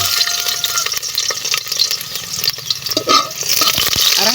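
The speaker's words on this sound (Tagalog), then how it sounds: "mainit na po yung mantika. May kaldero kaya lagay na po natin yung bawang" Garlic dropped into hot cooking oil in a pot sizzles and crackles steadily throughout, with some stirring and clatter, close and fairly loud, no talking.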